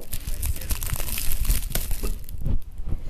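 Scissors snip through ribbon and wrapping paper on a gift from neighbors, with busy crinkling and tearing rustles close up, steady then easing near the end, while voices murmur around it.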